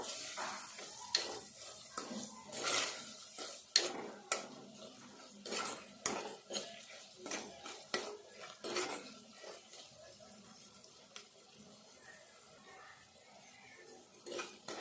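Onions frying in a pan while a potato curry is prepared, with a steady low sizzle beneath repeated close clinks and scrapes of a spoon against the pan, no talking.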